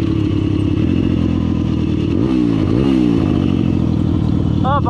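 A motorcycle engine runs with a loud, steady vibrating drone, rising and falling briefly in pitch as it revs, with someone talking over it.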